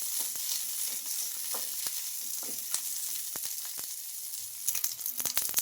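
Green chillies frying in a pan give a steady, close sizzle and hiss, with scattered pops and crackles that grow denser near the end; no one speaks.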